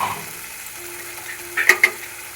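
Spices sauté in a pan with a low steady sizzle, then a couple of short scraping stirs toward the end, close and moderately loud.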